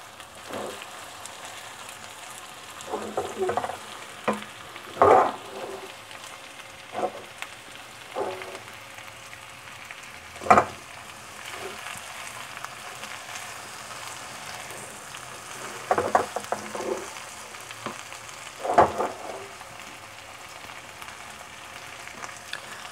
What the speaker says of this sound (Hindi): अब इनको ऑयल में, ताकि इनमें लेश होती है ना, ऑयल में वो कर रही हूँ, भून रही हूँ।